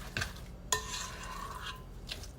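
A spoon folds chopped egg and bacon through an egg salad mixture in a bowl, giving a few soft scraping and clinking strokes, one sharper knock on the dish, then a quieter steady stirring close by.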